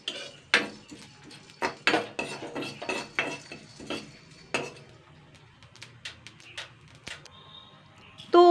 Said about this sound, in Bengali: জাস্ট শিলটা আমি 2-3 বার একটুখানি ডলা দিয়ে নেব